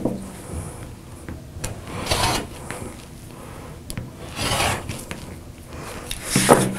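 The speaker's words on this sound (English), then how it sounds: "Rotate the block and trim the other two sides." Quilt block edges being trimmed, likely with a rotary cutter along a ruler: several short rasping, scraping strokes, some separated by brief pauses, close and clear with no talk.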